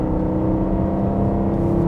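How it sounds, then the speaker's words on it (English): A rebuilt BMW E92 M3 engine pulling at half throttle, a steady loud droning hum heard close with a slowly rising tone. "Half a throttle, speed up nicely."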